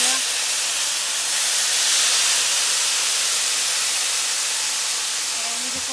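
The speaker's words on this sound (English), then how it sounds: "I'm going to go ahead and pour the sauce on. You need to be careful here because once this hits the pan," Sauce poured into a hot pan while cooking vegan bacon, a steady loud hiss of sizzling that holds evenly for several seconds with no talking.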